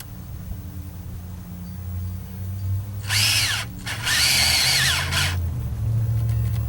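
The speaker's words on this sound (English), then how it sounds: "And my drill battery died." A cordless drill whirs in two close, loud bursts, the second longer and winding down unevenly as its battery gives out, over a low steady background hum.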